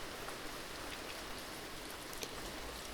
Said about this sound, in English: Wow, the rain's getting harder.